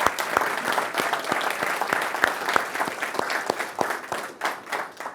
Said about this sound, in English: if we can give a round of applause for them